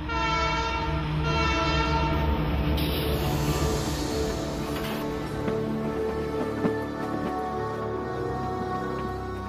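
Train on the Canadian Pacific Railroad in the Kicking Horse Valley, British Columbia: a long, loud horn blast with rich harmonic tones sounds over the steady rumble of rolling rail cars.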